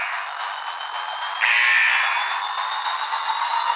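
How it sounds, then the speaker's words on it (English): Continuous buzzing alarm in the video game Flood Escape, a harsh rapid pulsing that jumps louder partway through and keeps sounding steadily. "Why is this thing beeping?"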